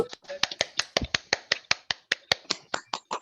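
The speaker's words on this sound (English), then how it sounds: "Can we give Manny a massive, massive round of applause, please?" Open mic poetry audience snapping fingers in a crisp, rapid run of sharp clicks, close and fairly even for the whole stretch, with faint talk in the background.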